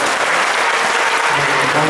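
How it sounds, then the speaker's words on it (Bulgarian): Steady applause from an audience at a Varna mayor's cup award ceremony honoring the Cherno More team, a dense, even clapping that holds for the whole moment. "Ръкопляскания за отбора на Черно море."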